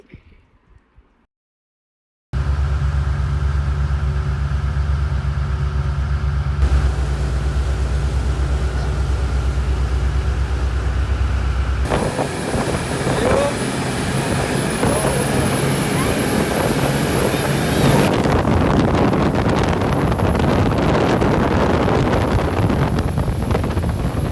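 A speedboat ride off Trincomalee, a loud, steady roar of engine and rushing wind that begins abruptly after a quiet moment and grows harsher and noisier as the boat speeds up; voices are faint beneath it.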